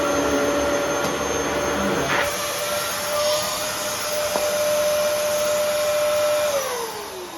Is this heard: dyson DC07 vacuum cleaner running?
yes